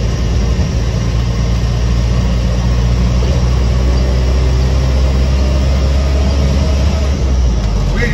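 A 1971 Land Rover Lightweight engine runs steadily and loudly, with a constant low rumble and continuous mechanical drone throughout and no spoken voice.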